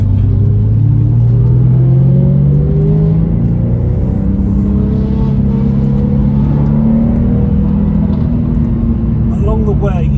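A motorcycle on the Tail of the Dragon road dropping from third gear into second, a loud close engine drone with falling then rising pitch sweeps as revs change, wind rumble throughout.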